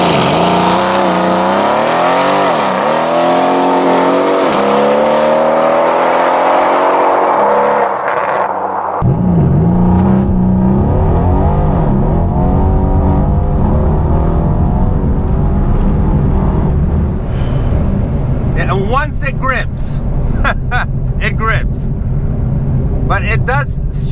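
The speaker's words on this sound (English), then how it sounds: "So let's do a launch control here" A Mercedes C63 AMG does a launch-control start, its engine holding high revs then roaring hard through rising acceleration sweeps and gear changes, loud and close throughout, with a voice speaking over parts of the run.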